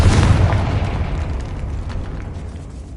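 A Confringo blasting spell explodes in Hogwarts Legacy, a loud, deep boom that rumbles and slowly fades over a few seconds with no voices.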